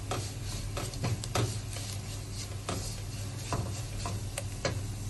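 Kerala-style crab roast masala sautéing in a pan with turmeric, with steady soft sizzling and repeated scraping and stirring clicks from a spoon close by, no talking.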